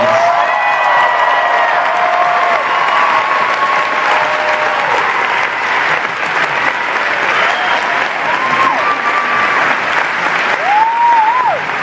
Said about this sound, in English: Let's hear for Holly Conrad, who's here in the audience